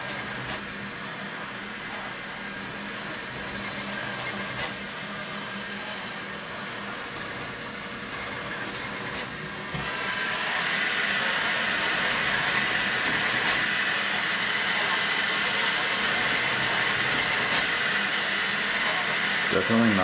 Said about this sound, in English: this is what it sounds like when the Centauri Carbon is printing.